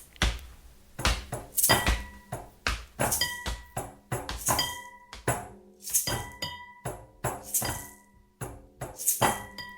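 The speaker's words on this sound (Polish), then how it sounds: "Garnki, widelce, łyżki, szklanki grają" Pots, cutlery and glasses clang and clink together in a steady beat, bright metallic rings and dull knocks repeating loudly without talk.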